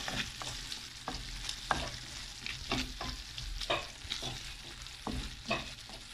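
Tomato and garlic fry in a pan while a wooden spoon stirs them, a constant close sizzle broken by soft scraping strokes and light knocks against the pan at an irregular pace, no talking.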